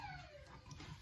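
A short, faint whimper from a dog, a thin high whine sliding downward, heard alone at low volume.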